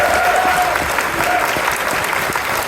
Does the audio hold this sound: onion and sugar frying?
no